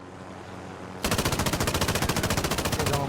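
Rapid automatic gunfire from a video game firefight bursts in after a second of quieter game ambience, a steady loud stream of evenly spaced shots that continues to the end.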